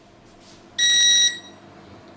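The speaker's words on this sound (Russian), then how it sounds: "вот срабатывает сигнал зуммера" A Smile 1140 multicooker's buzzer sounds once with a loud, steady high-pitched beep lasting about half a second, signaling that meat has finished cooking, then stops, with faint room noise around it.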